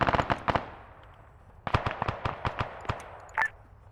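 Mortar strikes in a military video game: scattered bursts of sharp cracks and blasts, a quick cluster at the start, then a rapid string of louder hits, some distant and some closer.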